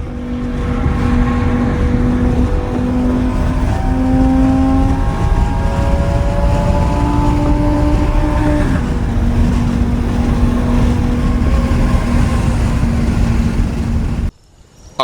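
Lamborghini Huracan EVO engine revving loudly and continuously, with rising and falling tones as it climbs through the revs, cutting off abruptly near the end.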